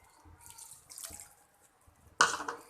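Water poured into a cooking pot for sugar syrup, a few faint trickles and splashes followed by a louder, closer gush near the end.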